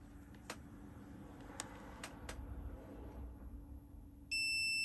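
A multimeter gives a sudden steady continuity beep as it tests a faulty Nintendo Game Boy, after a few faint clicks from probing in a quiet room.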